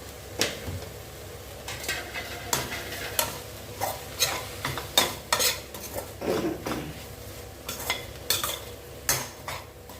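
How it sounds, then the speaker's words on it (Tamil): Raw banana peel and greens sauté in a pan for a brinjal and raw mango tamarind curry, with repeated close scrapes and clinks of a spoon against the pan over a soft sizzle, no talking. "கொஞ்ச நேரம் பச்சை வாழைத்தோடு அது நல்லா வதங்கட்டும்."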